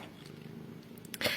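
A soft, steady purring rumble close by, with a brief rustle and a faint breathy sound at the end.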